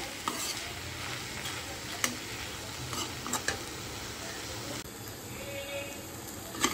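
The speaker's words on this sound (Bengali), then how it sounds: "লো ফ্লেমে মোচা আর আলু আস্তে আস্তে ভালোভাবে আবার কষে নেব" Banana flower and potato being stir-fried in a pan over a low gas flame, with a steady soft sizzle and intermittent scraping and stirring clicks from the spatula throughout.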